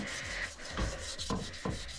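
Halved potato with salt scrubbing rust from a cast iron pan, gritty rhythmic rubbing strokes, three or four close scrapes in quick succession with no voices.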